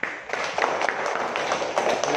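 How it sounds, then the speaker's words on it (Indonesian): A classroom of students claps together in a dense burst of applause, steady and fairly loud throughout with no gaps. "Tepuk tangan."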